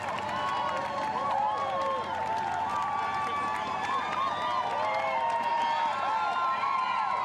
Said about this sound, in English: Big crowds, lots of cheers